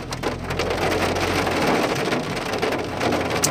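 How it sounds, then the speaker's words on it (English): Heavy rain pours steadily onto a street in Prayagraj during incessant monsoon rains with a traffic jam nearby, a dense continuous hiss close to the microphone with no talking. "It has not stopped raining actually."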